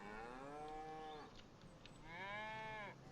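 Cattle on a farm in the video game Farming Simulator 25 let out two long, drawn-out moos with a short gap between them, heard clearly over a faint steady background with no talking.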